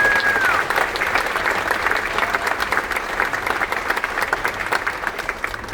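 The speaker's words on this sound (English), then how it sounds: "Can we give them a big round of applause?" An audience aboard the Royal Caribbean cruise ship Voyager of the Seas applauds National Guard members at a hero's tribute, loud continuous clapping from a crowd with a brief tone at the start and a faint voice beneath.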